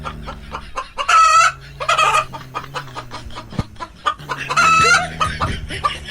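Cartoon chicken clucking in quick bursts with a couple of louder squawking calls, set against a busy animated soundtrack with background music.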